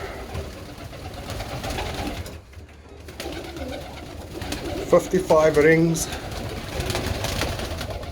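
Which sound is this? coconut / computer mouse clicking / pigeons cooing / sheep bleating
pigeons cooing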